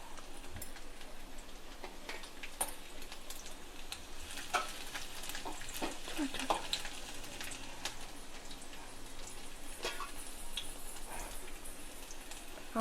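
Garlic frying in a pan for homemade potato Manchurian, a steady close sizzle with scattered small pops and crackles and a few faint clinks, with no talk over it.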